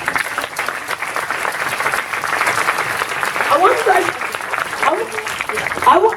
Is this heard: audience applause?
yes